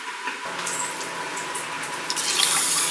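Water poured into a pan to make sugar syrup, a steady close splashing stream that runs throughout and grows slightly louder toward the end, with no one speaking.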